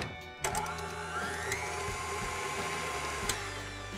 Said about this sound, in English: While that simmers over here in our stand-up mixer, I'm gonna start creaming our butter until it's nice and fluffy.